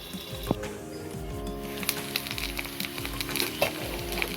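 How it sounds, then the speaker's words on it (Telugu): Green chillies frying in a covered pan, a steady close crackling sizzle with scattered pops and a thud near the start, continuing evenly throughout. "కొంచెం 2 మినిట్స్ మనం మూత పెట్టేసి వీటిని ఫ్రై చేసుకుందాం."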